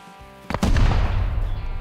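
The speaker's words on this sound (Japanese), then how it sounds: "やばい、爆発巻き込まれるかも。" A satchel charge detonates in the survival video game Rust, a single sudden close explosion with a deep booming rumble that lingers and rolls on after the blast.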